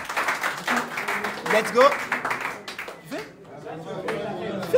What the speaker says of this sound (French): Applaudissez pour le gars, s'il vous plaît.